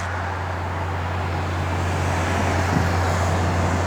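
A 1967 Dodge Dart GT convertible's engine idles with a steady, close low rumble, continuous and even with no talk over it.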